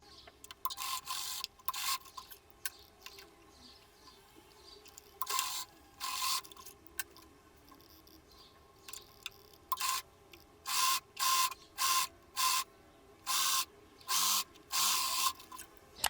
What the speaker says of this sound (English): I sew on the sides and at the shoulders